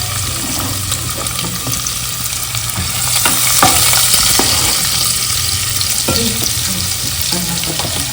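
Plenty of garlic fries in a pan with methi, giving a loud continuous sizzle with stirring clicks and scrapes throughout.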